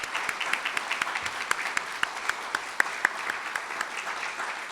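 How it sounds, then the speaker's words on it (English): Steady applause from a crowd, sustained clapping with a few louder individual claps standing out throughout. "let's give them a round of applause"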